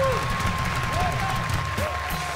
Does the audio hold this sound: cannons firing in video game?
no